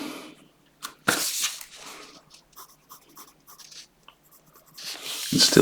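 Pencil pressed fairly firmly against paper while value shading a Spider-Man drawing, giving scratchy, irregular strokes of varying loudness close up, with a sharper tap near the start and heavier rubbing toward the end.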